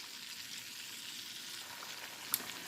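A beef roast sears in a pan with a steady, even sizzle close by and one brief sharp pop near the end.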